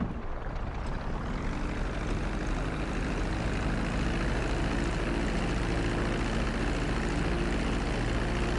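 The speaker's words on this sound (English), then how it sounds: "reducing the plane's altitude gradually so you're just above the runway as you approach" A propeller airplane in the GTA video game descends toward a runway to land, its engine giving a steady, loud drone that holds level throughout with no talk over it.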